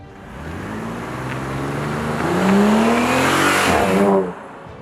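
Audi Q5 with a naturally aspirated 3.2-litre V6, ECU tune and tuned exhaust, revving up loudly with a rising engine note that peaks, then drops sharply as the throttle closes.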